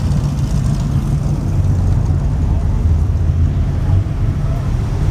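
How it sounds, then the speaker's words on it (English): A car with a supercharged V8 engine rumbles past close by in street-side traffic, a loud, deep, continuous engine roar with wind buffeting the microphone. "It's got a supercharged V8 in it."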